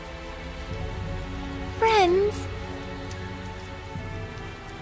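Steady rain patters continuously in the video game Tales of Zestiria, a soft even hiss beneath a brief spoken word and a short rising-falling synth tone.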